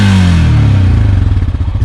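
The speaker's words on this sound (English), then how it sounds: "Hearing the sound of the motor, the 420" A 420 cc, 26 horsepower single overhead cam, liquid-cooled engine on a 2020 Honda Rancher 4x4 ATV runs close by, a steady low throbbing drone with a slight pitch drop, loud and alone with no talk.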